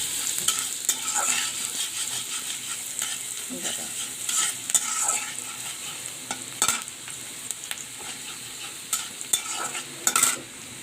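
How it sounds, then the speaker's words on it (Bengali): Onions frying in a pan for a taro and tengra fish curry, a steady close sizzle broken by frequent scraping stirs of a spatula, with no talking. "পেঁয়াজটা বেশি ভাজবো না,"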